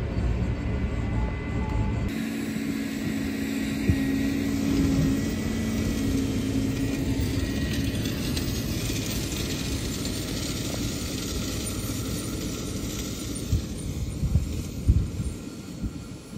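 A seed drill planting sugar beet runs in a field, a steady low mechanical hum and throb that stays continuous throughout with faint rattles over it.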